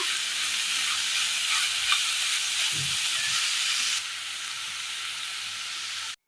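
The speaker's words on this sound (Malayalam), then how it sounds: "നന്നായി ഒന്ന് മിക്സ് ചെയ്തെടുക്കാം." Spring onion stalks and carrot stir-fry into thoran in a pan, giving a constant close hissing sizzle with a soft stir midway, and the hiss eases slightly toward the end.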